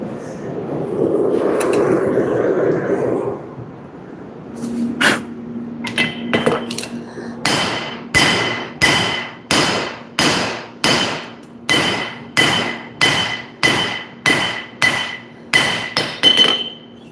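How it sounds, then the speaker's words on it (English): Hand forging of a super stainless steel knife blank, a hammer striking in a steady rhythm of sharp, ringing metallic blows, loud and close, after a stretch of roaring forge noise at the start. "I'll be trying to hand forge this as well"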